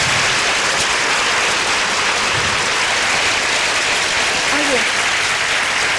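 Strong, continuous applause from a congress audience thanking the speaker Sol Blanc after her talk, dense steady clapping filling the room, with a brief voice over it.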